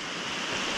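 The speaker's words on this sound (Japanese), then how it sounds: "小川渓流かな、" A small mountain stream rushes steadily beside a bicycle route along the old Tokaido road in Japan, a constant close hiss of flowing water with no speech over it.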